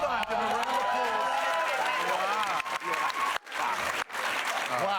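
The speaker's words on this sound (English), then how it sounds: "Give him a round of applause" Studio audience at a comedy panel show gives a round of applause, loud sustained clapping and cheering with people talking and laughing over it, a couple of brief gaps near the end.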